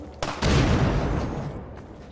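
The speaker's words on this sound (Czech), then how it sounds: "Střílí po mně" A short burst of loud gunfire in the game Half-Life 2, with a sharp crack and rumbling boom that trails off over about two seconds.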